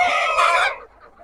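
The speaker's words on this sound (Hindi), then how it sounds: "तो दोस्तों आपको दिखाने का हम कोशिश किए सोनाली मुर्गी का, जो देसी मुर्गी बोलते हैं" Sonali desi chickens on a farm give a short burst of close, loud clucking and squawking that cuts off abruptly, followed by faint background noise.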